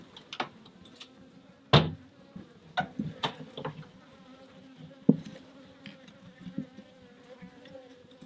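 Honey bees buzz around an open hive while frames are lifted. Close, wavering hums from individual bees pass by, mixed with a few sharp knocks and clicks from handling the hive.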